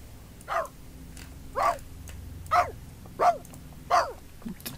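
A dog in the video game The Sims 3: Seasons barks five times in an even rhythm, loud and close, each a short gruff woof over a low background hum.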